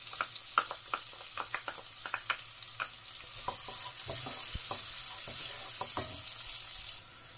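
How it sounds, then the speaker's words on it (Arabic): Chopped onions stirred into two large spoonfuls of hot oil in a pot for shrimp kabsa, giving a steady sizzle and frying hiss with clinks and scrapes from a utensil, close and clear. "في نفس الحلة هضيف 2 كبار من الزيت، وهنزل بالبصل وهشوحه شوية"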